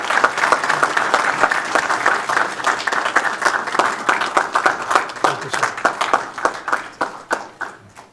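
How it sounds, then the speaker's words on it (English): A room full of people at a city council meeting gives sustained applause, dense and steady for several seconds before thinning into scattered claps near the end. "let's give him a big round of applause"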